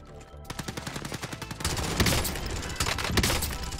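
Gunfire in Call of Duty Warzone: a fast string of close, loud shots in steady rhythm, building into dense continuous automatic fire with explosive bangs, no talking over it.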